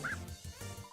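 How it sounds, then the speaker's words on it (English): Lesser Dog, an enemy in the Undertale video game, gives a short, quiet yip or bark effect, one brief call over faint game sound. "A lesser dog appears."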